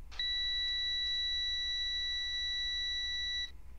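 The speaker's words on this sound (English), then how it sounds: "I like that he included that startup beep" A steady electronic startup beep from an AmTran B800 bus in the Rigs of Rods driving game, one unbroken two-tone tone held for about three seconds, clear and close, with no talking.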